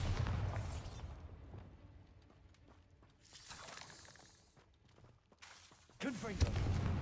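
Spell blasts from the Bombarda blasting spell in Hogwarts Legacy, heard as several booming, crackling bursts over game music, with a loud impact near the end.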